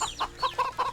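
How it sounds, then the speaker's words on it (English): Chickens and a rooster in the video game Wytchwood cluck in a quick series of four or five short, close, clear calls. "Oh, chickens and a rooster."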